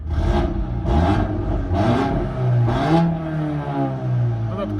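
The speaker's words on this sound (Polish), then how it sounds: "Przegazujemy, mam otwartą szybę" A tuned VW Golf 8R with a 2.0 TSI engine, stage 1+ chip tune, downpipe and OPF delete, revved while parked with a window open: four loud surging rev blips rising and falling, then a steady idle.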